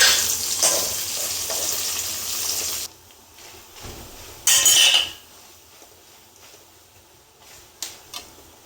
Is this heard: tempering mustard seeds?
yes